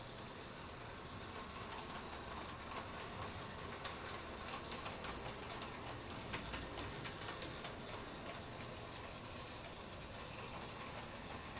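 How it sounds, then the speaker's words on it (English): An On30 scale model train reverses into its engine house with a steady, faint rolling rumble and light clicking wheel noise throughout, with no talking. "I can reverse the train back into the engine house"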